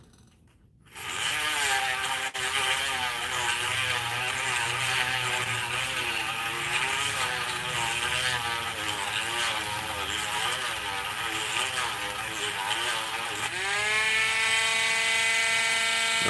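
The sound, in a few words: sanding down a silver ring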